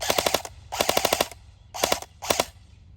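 A Lancer Tactical airsoft rifle fires on full auto in four rapid bursts of sharp, snappy shots, each burst several rounds long, loud and close with short pauses between.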